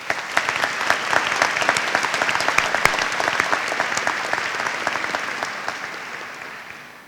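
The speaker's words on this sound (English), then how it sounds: "Let's give them a huge round of applause." At a high school graduation ceremony, a large audience gives a long round of applause, dense overlapping clapping that holds steady across several seconds and then gradually fades.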